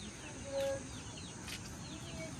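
Chickens cluck faintly at a distance at a farm near a nesting spot, with one or two soft calls over a quiet background.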